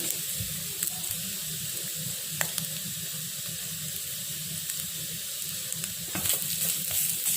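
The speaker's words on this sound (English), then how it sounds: "Add a grated coconut and fry for another minute." Grated coconut and onion fry in a pan for Kerala-style Palakkad sambar, giving a steady close sizzle with occasional scraping stirs and clinks, louder toward the end.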